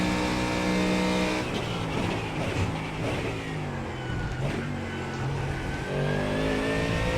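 Ford Mustang GT3 race car lapping Road America, engine loud and close as it accelerates, drops revs under braking with downshifts, then climbs again, with a faint tire squeal and no talk.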